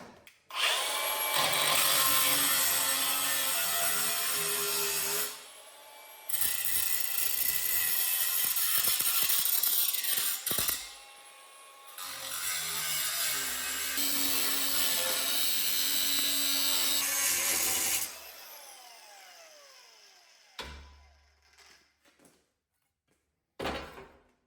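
Cutoff wheel slicing through a steel plate for a diesel engine swap on a Wheel Horse tractor, a loud, harsh, sustained grinding whine in long runs broken by brief pauses, ending with the wheel spinning down and a few clanks.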